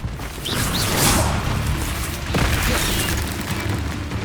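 A Confringo blasting spell exploding in Hogwarts Legacy, a loud rumbling boom with a rushing whoosh, sustained crackling debris and a second burst midway, dense and close through the whole stretch with no voice.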